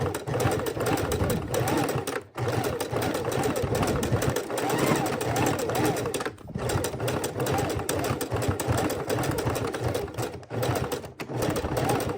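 Sewing machine thread-painting raw edge appliqué, a dense continuous buzzing hum of fast stitching up close, broken by a few short stops between runs.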